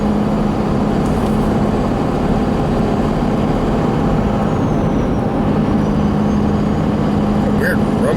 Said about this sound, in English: Almost sounds like something's rubbing under my truck.